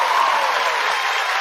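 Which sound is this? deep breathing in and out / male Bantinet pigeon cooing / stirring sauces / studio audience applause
studio audience applause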